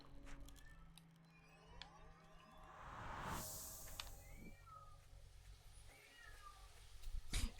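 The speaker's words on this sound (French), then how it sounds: "mon chat qui miaule beaucoup, mais c'est qu'il veut sortir" Pet cat meowing to be let outside, a few faint indoor meows heard at a distance beneath a background of layered game music and ambient sound.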